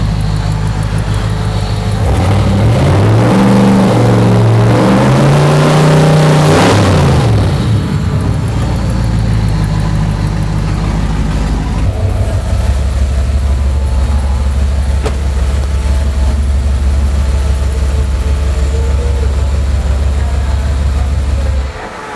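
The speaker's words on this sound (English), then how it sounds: "I want to hear what it sounds like with the exhaust cut out" Dad's old truck with the exhaust cut out revs loudly up and down early on, then settles into a deep, steady, rumbling idle that continues close up.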